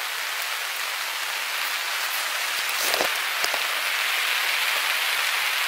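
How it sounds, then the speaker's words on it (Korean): Rain falling steadily on a bushcraft tent pitched on four poles, with wind blowing. A dense, even patter fills the space, with a few louder drips near the middle and no talking. "지금 비가 꽤 오고 있고요"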